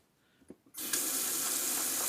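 A bathroom tap runs water to wet an Omega alum stick during a shave: a couple of soft handling knocks come first, then the faucet opens into a steady, loud, hissing stream that continues to the end.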